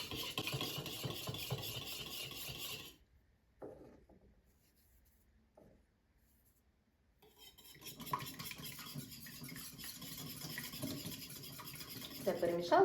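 Beaten eggs are mixed in a bowl for a quiche Lorraine, with scraping, clinking strokes that stop for a few seconds of near silence and then resume, fairly quiet and close.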